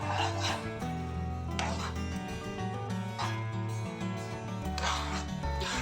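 Carrot halwa mixed with milk powder is stirred in a pan over low heat, a continuous close scraping and rubbing of a spoon against the pan, with rhythmic swishing strokes throughout.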